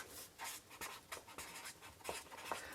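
Pen writing on a craft card, a faint, close scratching in short repeated strokes with brief pauses between them, alone.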